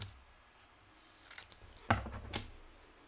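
Scissors snip apart vinyl wine decals in a quiet room, giving a few faint close cuts and two sharper snips near the end.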